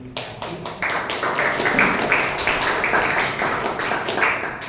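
Audience at a Toastmasters meeting breaking into applause, a dense patter of many hands clapping that starts quickly and holds steady for several seconds at moderate loudness.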